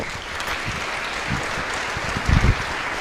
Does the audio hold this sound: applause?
yes